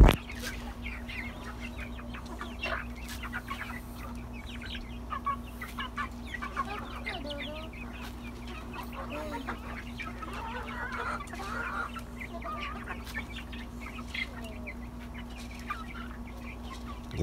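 Backyard chickens cluck and murmur in a steady, busy chorus during feeding, with scattered soft calls over a constant low hum.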